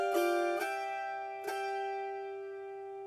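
An autoharp played with a finger pick using a restricted pinch: three bright plucked strums at uneven intervals, each leaving a clear, ringing chord that slowly decays; close, solo and quiet.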